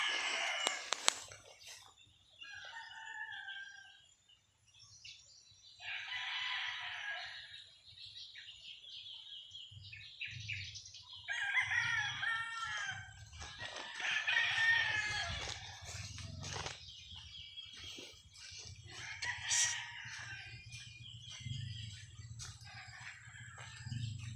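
A flock of chickens along a path clucks and calls, with roosters crowing in bursts and wings flapping now and then, all fairly faint and scattered over a low background hum.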